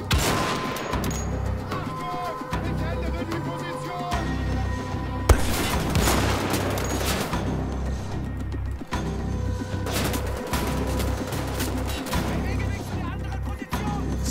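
Rapid, sustained gunfire from Wolfenstein: The Old Blood, on the level "The Bridge": dense bursts of shots and heavy booms that rarely let up, loud and close, while someone talks over the fighting.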